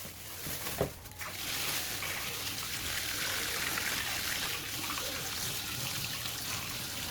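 Steady stream of running tap water pours over raw pork chops and pork ribs being washed, a continuous close rushing splash with a brief knock near the start and no talking.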